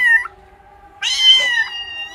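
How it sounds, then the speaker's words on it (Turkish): Newborn kittens meow in a garden, two or three thin, high, close cries separated by a short pause, with quiet background and no talk. "Oradan bir yerden kedi sesleri geliyor."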